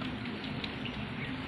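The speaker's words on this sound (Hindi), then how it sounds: "ये देखिए बारिश कैसे आ रहा है। आप देख सकते हैं बहुत ज़ोर से बारिश हो रहा है।" Heavy rain falls outdoors in a continuous, fairly quiet hiss of drops on surfaces. It stays steady through the short stretch, and there are no voices.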